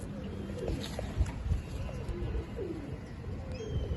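Domestic pigeon, an outclass male held at a pigeon fancier's loft, with soft low cooing repeated through the clip under a steady background of other birds and faint ambient noise.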